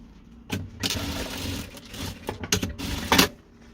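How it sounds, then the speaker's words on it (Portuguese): A sewing machine runs in short bursts, stitching back over a fabric seam on a handmade patchwork bag, loud and close, with brief pauses between runs and a final quick burst. "Deixa eu reforçar essa costurinha aqui."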